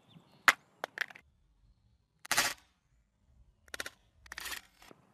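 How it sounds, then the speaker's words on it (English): An iPhone 6 dropped face down from 10 feet, landing with a sharp crack followed by several quick clattering impacts as it bounces and settles, loud and close in an otherwise quiet space. "iPhone 6 face down drop test, 10 feet."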